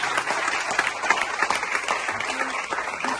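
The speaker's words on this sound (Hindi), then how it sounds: "हमें और भी जोरदार तालियां एक बार बजानी" An audience at a college seminar hall claps in sustained, dense applause, loud and steady throughout.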